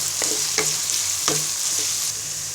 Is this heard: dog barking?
no